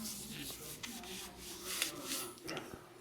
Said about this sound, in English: I'm going to go ahead and clean up all this old grease on the fork here